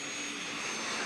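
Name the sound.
turbine engine of a modified pulling tractor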